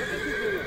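A horse at the Sokuluk horse market in Chüy, Kyrgyzstan, gives a brief whinny: a short, close, tonal neigh that stays steady over the moment against constant crowd and market background.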